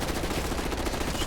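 A KSV submachine gun fired from the hip in a video game rattles off a continuous rapid burst, loud and close, with dense unbroken automatic fire throughout.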